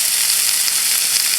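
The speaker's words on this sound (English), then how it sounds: "we're gonna add our green peppers first. Get those sizzling." Green peppers sizzling in a hot pan for a spaghetti squash dish, giving a steady, close, bright hiss with no talking.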